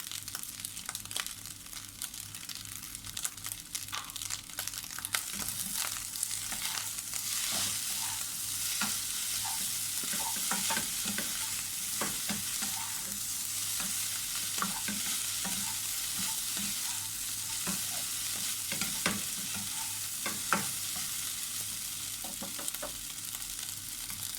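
Tom yum shrimp fried rice stir-fried in a pan with chili paste and sugar: continuous loud sizzling and frying with busy scraping and tossing strokes of the spatula throughout, close up, no voices.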